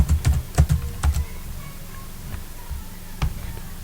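Fast, clattery key taps on a computer keyboard come in quick bursts, then turn sparse with a few isolated clicks near the end.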